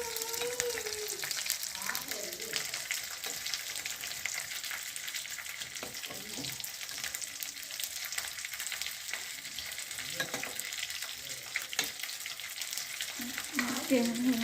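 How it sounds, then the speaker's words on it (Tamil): Chopped big onions sautéing in a pan with vegetables for bisi bele bath, a steady close sizzle with occasional stirring scrapes throughout, no talking. "அது ஓரளவுக்கு ரோஸ்ட் ஆனோடனே இந்த பெரிய வெங்காயத்தையும் போட்டு வதக்கணும்."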